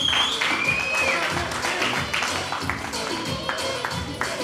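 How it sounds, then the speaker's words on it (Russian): Sustained crowd applause at the ribbon-cutting opening of a new martial arts sports hall in Derbent, steady dense clapping from many people at close range, with some voices underneath. "Давайте подбудем аплодисменты,"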